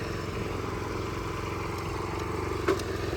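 Old Japanese rotary tiller engine running steadily in first gear while tilling soil, a close, even motor drone with one brief clatter near the end.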